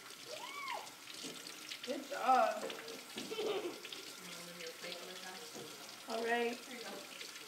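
Tap water runs into a sink as a child rinses soapy hands, a soft steady flow beneath an adult's encouraging speech.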